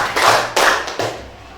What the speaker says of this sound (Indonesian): Sebelum istirahat tepuk 3 kali